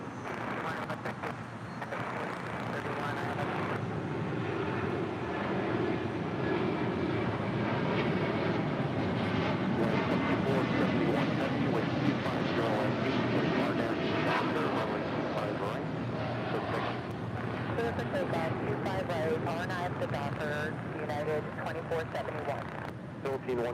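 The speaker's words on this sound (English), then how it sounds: "American 27 taking off to Tokyo Haneda on a 787-8 Dreamliner" An American Airlines Boeing 787-8 Dreamliner takes off from runway 25 right at LAX, a steady, fairly distant jet engine roar that holds for the whole stretch while someone talks over it.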